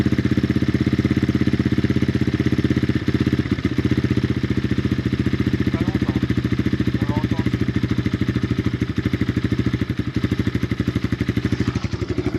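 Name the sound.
Apollo Thunder 250cc motocross bike engine starting and idling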